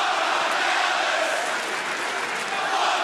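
Sold-out wrestling arena crowd in St. Louis roaring and chanting in unison, a dense steady wall of voices throughout with no break.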